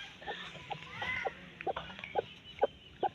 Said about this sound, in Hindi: अब मुर्गी भी देख सकते हैं आप कितनी आवाज़ कर रही है